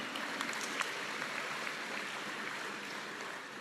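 Steady applause from a church congregation during a Tagalog sermon, an even patter of many hands clapping at moderate level and holding without a break.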